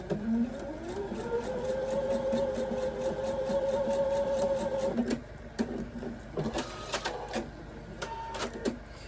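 A sewing machine stitches a quilt block in a steady rapid whir for about five seconds, then stops and gives a few short bursts, close and clear in a quiet room.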